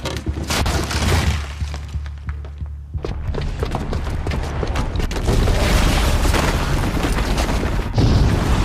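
A booby-trapped bomb in Horizon Zero Dawn detonates with a heavy, loud boom, followed by crumbling, shattering debris and a sustained rumbling roar that swells again near the end, with no voices.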